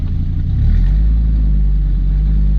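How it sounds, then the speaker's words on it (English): An old Dodge Ram pickup's engine revving in neutral, a loud, close low rumble that climbs and then holds a steady drone, with no talk over it. "Revving and not moving."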